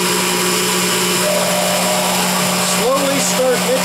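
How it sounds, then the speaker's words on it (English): A kitchen blender whirs steadily as it mixes crepe batter made with flour and butter, a loud continuous motor drone running the whole time with brief faint sounds over it near the end. "Now while you're blending this stuff together"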